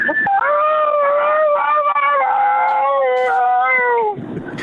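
A man on a radio call-in voices a drawn-out, wavering howl in imitation of an aardwolf, one continuous mournful cry of about four seconds, loud and close with no other talk.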